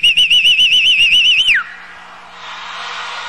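A human whistle imitates the little bird associated with Nicolás Maduro: a loud, wavering warbled tone repeated steadily for about a second and a half, ending in a quick downward swoop, followed by faint background noise.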